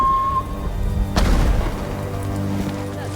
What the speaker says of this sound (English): More fireworks to the west!